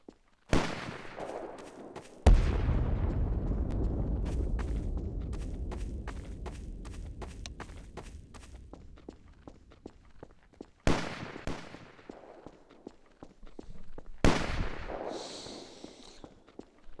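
Heavy explosive blasts and weapon fire during a video game raid: a huge bang with a long rumbling decay, then sharp cracks and two more booming hits further on, with scattered snaps in between and no talk.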